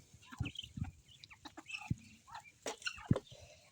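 Short, soft clucks from a bantam chicken, a few scattered calls over quiet outdoor background.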